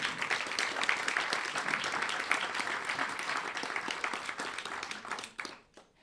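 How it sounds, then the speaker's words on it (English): An audience at a national forum of Black mayors breaks into dense, loud applause that holds steady and then fades out over a few seconds. "Can we give them all a round of applause"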